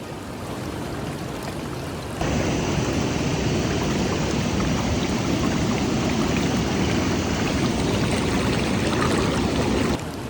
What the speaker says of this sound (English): the white foam of the waves really lead your eyes to the waterfall is quite nice